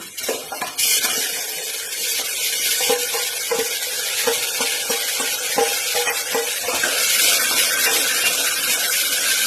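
Onions fry with bay leaf and dried red chilli in a pan, giving a continuous loud sizzle punctuated by a regular series of spoon scrapes as they are stirred.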